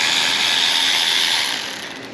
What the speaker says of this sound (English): I'm just gonna use the old electric ratchet here